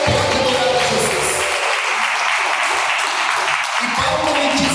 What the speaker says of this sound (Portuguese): batam palmas para Jesus